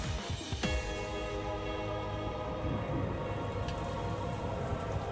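Steady rain falls in the visual novel Umineko, an even hiss of rainfall under a sharp opening strike and a lingering tonal drone, fairly loud and continuous.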